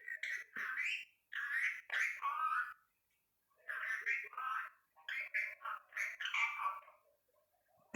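A pet parrot gives loud, close squawks and chirpy calls in bursts, with short pauses between the runs of calls.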